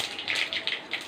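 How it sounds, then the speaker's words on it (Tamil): Mustard seeds crackle and spit in hot oil, a close, busy patter of small pops and sizzling bursts that swell and fade in quick waves. "ஆயில் காஞ்சிச்சு, கடுகு போட்டுக்கலாம்."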